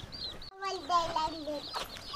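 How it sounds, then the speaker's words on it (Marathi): High chicks peeping alongside a hen's low clucks, close by, in a brief burst of farmyard chatter. "इथं आपले कोंबडीची पिल्लं दिसत असतील तुम्हाला."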